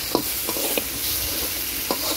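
Ginger-garlic paste is stirred in a frying pan over a clay stove for a fish curry, with a loud continuous sizzle and a few scraping strokes of the spoon.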